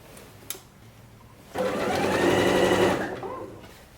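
A sewing machine stitches around a tiered dress in one sustained whirring run of about a second and a half, starting abruptly after a short quiet pause with a single click, then slowing and fading.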